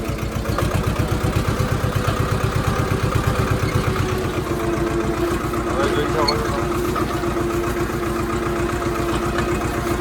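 A mini tractor engine runs steadily in a castor field, a close mid-pitched chugging with a fast regular pulse that smooths out partway through, carrying on without pause for about ten seconds.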